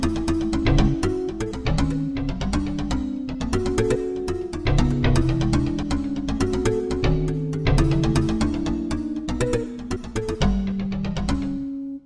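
Generative electronic music produced by a simple feedback node network: dense, rapid percussive clicks and plucked tones over shifting sustained low pitches, busy and steady in level throughout without any voices.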